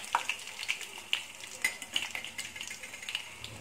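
Curry leaves and cumin sizzle in hot oil as tempering in a pan, a soft crackle with a series of light, irregular metallic clicks and scrapes from stirring, close and fairly quiet.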